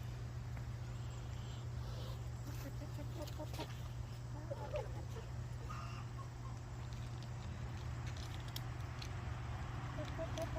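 Chickens clucking softly in short bursts over a steady low mechanical hum, fairly distant and mixed into the background noise.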